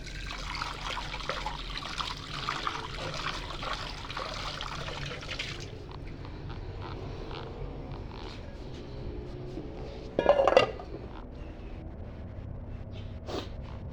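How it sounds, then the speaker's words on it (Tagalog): A plate is washed under running water in a home kitchen: a steady, soft trickle and splash for the first few seconds, then quieter dripping with a brief clink of dishware later on, no talking. "Hugasan muna natin yung plato natin"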